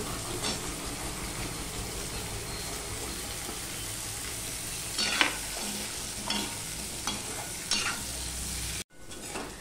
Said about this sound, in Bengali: পেঁয়াজটার সাথে আমি আলুও দিয়ে দিচ্ছি। আলু পেঁয়াজটা আমি ভালো করে ভেজে নেব।